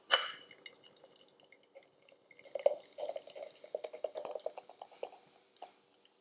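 Northern Monk chocolate caramel biscuit porter poured from a can into a glass: a bright clink at the start, then a run of close glugging, splashing and fizzing that swells and fades in bursts over several seconds.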